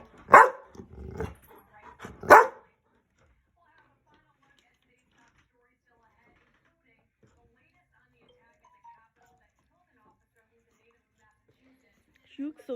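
A dog barks at a water bottle in a few short, loud bursts near the start, with a quieter yelp near the end and long silence in between.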